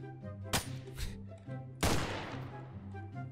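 A modded SG 550 rifle in CS:GO firing with a muffled, silencer-like report: a few soft, punchy shots spaced apart over a low, tonal game background.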